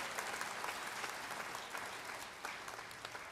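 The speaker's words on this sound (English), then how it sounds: "give them a round of applause, indeed" Audience applause at a university presidential investiture ceremony: a steady, dense wash of clapping from many hands, faint and distant, with no speech over it.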